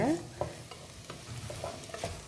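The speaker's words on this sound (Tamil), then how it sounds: "இந்த பீட்ரூட்டை நம்ம லைட்டாக வதக்கிட்டு அப்புறமா நம்ம மூடி வச்சிடலாம்" Beetroot pieces being sautéed for beetroot chutney, soft scraping stirs and light sizzling in a pan at low volume, with a short clink near the start and no speech.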